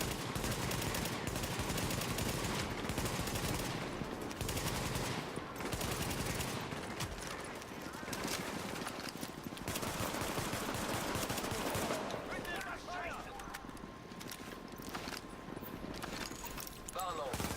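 Sustained automatic and single gunfire in The Division, loud bursts and rapid rattling shots nearly continuous, with an in-game voice announcement over the battle.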